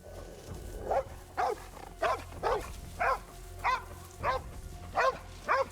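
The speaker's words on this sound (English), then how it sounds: "The dogs. Hated those dogs." Dogs from an episode of The Last of Us TV series bark in a steady series of about eight sharp, evenly spaced barks, moderately loud over a low rumbling background.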